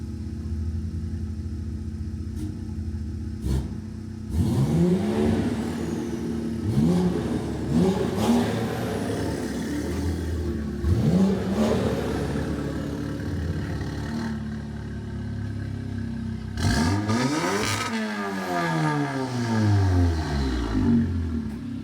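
A BMW 840i fitted with a cheap AliExpress exhaust revs repeatedly from idle, several sharp rising blips followed by a longer climb and fall, loud and close with a raspy exhaust tone.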